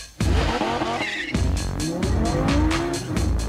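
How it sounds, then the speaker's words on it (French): A 570-horsepower V10 Lamborghini LP570-4 with four-wheel drive launches hard from a standstill, engine roaring up through the revs to 8500 rpm with tire squeal and a sharp gear change, loud and close. "570 chevaux, un gros moteur V10. C'est parti."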